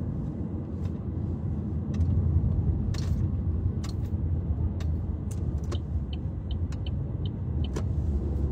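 From inside a moving car comes a steady low road rumble and engine drone, with a few faint clicks and brief higher ticks scattered over the continuous noise and no talking.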